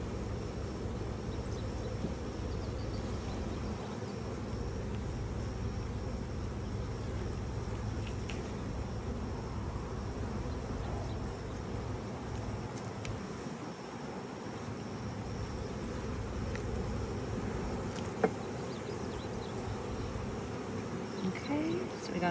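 Honey bees buzz in a continuous low drone that hovers close and holds steady, with a faint hiss behind it and people speaking quietly now and then.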